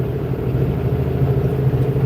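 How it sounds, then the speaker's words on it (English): A vehicle engine rumbles in the background with a continuous low, steady drone and an even hum, loud and unbroken, with no one talking. "apologize for any background noise or anything like the engine rumbling or whatever"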